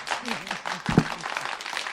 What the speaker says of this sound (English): Rousing round of applause for you as well